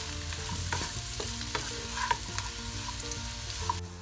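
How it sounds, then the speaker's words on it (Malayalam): Onion and capsicum sauté lightly in a pan for a chicken bread pizza filling: a steady close sizzle of frying with intermittent scraping and stirring clicks. "ഇതൊന്ന് ചെറുതായി ഒന്ന് വഴറ്റിയാൽ മതി,"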